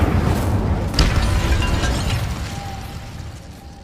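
Casting the Incendio fire spell in Hogwarts Legacy brings a deep, rumbling burst with a sharp crackling pop about a second in, then a roaring rush that gradually fades away.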